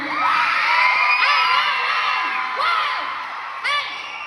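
A live podcast audience in Chicago cheers, whoops and yells loudly and steadily throughout, with a few sharper bursts of shouting rising from the crowd.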